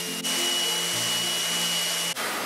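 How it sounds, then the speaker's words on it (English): Electric orbital sander run on a low setting with 240-grit paper over wood veneer on an old secretary desk, a steady close whirring drone that holds for about two seconds between brief start and stop dips, with no talking. "I'm going to go in with this sander on a low setting, and this is only 240 grit"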